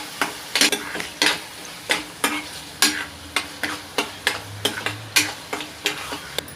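Onion with ginger-garlic paste sautéing in a pan for paneer tawa masala, a spatula scraping and stirring in a steady rhythm of sharp strokes over a soft sizzle, close and fairly loud with no talking.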